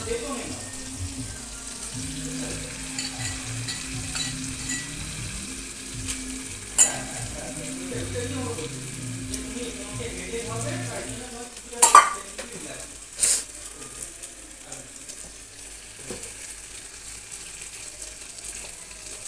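Prawns fry in a pan with tomato, onion, ginger, chili and spices for a Bengali prawn kalia, sizzling softly under occasional stirring scrapes and a few sharp utensil clanks, with some talk at times.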